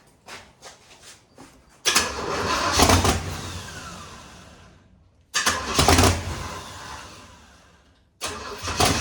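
A square-body truck with vacuum leaks, fed fuel poured straight into the engine, cranks over in a few quick turns, then sputters and roars briefly before dying. It repeats the cycle with another loud burst, close and with no talking.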